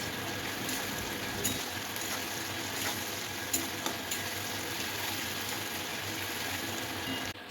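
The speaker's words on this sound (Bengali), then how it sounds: "এখানে ফার্স্টে তেল দিয়ে পেঁয়াজটা ভেজে নিচ্ছি" Onion fries in oil in a pan with a steady close hiss of sizzling, broken by a few soft clicks and scrapes from stirring; no one talks.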